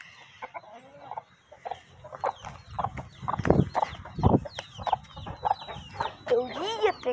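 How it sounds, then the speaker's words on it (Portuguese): Rooster clucking close by in a farmyard, a run of repeated short clucks and chatter mixed with other fowl, with a louder, drawn-out call near the end. "Galinho lindo."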